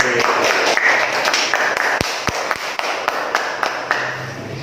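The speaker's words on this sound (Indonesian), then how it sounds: "Nah, tepuk tangan untuk kita semua" Students in a classroom clap their hands together, a rapid patter of claps with a few sharp, loud slaps standing out, fading gradually toward the end.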